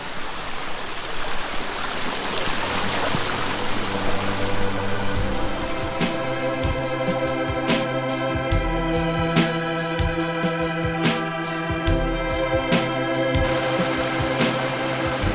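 Steady rushing water from the Chanta Then waterfall stream, a continuous hiss, soon joined by music with a steady beat.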